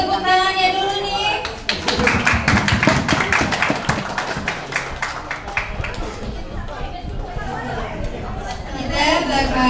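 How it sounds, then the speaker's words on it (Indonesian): A crowd at a college Ramadan ngabuburit event in Palembang applauds to welcome a vice-rector, dense clapping building over several seconds under chatter, then thinning into scattered claps and voices. "Boleh tepuk tangannya dulu nih"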